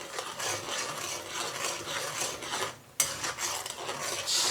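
Close scraping of a utensil stirring a garlic, chilli and oyster sauce mixture in a pan, a steady rasping rhythm with a light sizzle beneath and a sharp clatter near the end.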